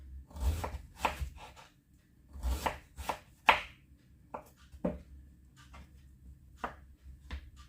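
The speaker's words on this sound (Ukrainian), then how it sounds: "Я так і буду нарізати." A knife cutting vegetables into thin matchstick strips for borscht on a board, a series of irregular close knocks and short bursts of slicing with pauses between, no talking.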